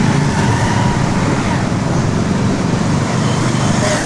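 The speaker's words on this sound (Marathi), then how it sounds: "भरपूर ट्रॅफिक आहे." Heavy road traffic on a busy Kathmandu street in Nepal makes a loud, constant rumbling wash of engines and road noise, close and unbroken, with voices mixed in.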